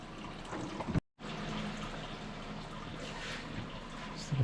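Coolant draining from the radiator of an 80 Series, a steady trickling, splashing flow heard alone at low level, with one brief dropout.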